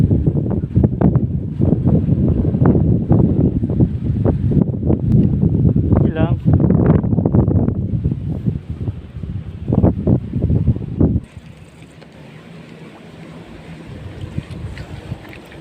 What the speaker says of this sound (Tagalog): Sabayan ba naman ng malakas na hangin